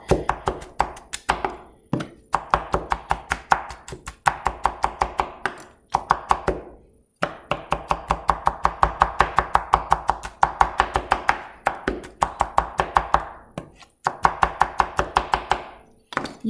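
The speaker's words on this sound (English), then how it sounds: "You want to chop up your tomato pretty good too." A knife chops tomato on a cutting board for meatballs, sharp rapid taps in quick bursts of several strokes each, separated by brief pauses, close and loud with no talking.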